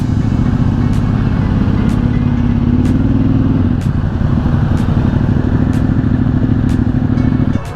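Several motorcycles idle and creep forward in a dense traffic jam during a Ducati owners' group ride near Delhi, a loud, steady engine rumble with rough low throb and faint periodic clicks, close by and continuous with no talk.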